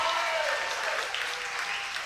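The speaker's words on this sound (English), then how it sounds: "that reaction and clapping and excitement" Diners at a Mellow Mushroom restaurant in Lynchburg clap and cheer for a Liberty football show with the head coach, a steady burst of applause with faint whoops mixed in.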